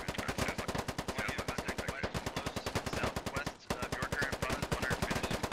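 Sustained automatic gunfire in the video game SquadOps, a rapid, steady stream of close, loud shots with two brief pauses, without speech.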